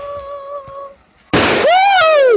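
A Fourth of July firework explodes outdoors, a loud sudden burst of crackling noise preceded by a faint whistling tone and followed by a rising then falling whistle.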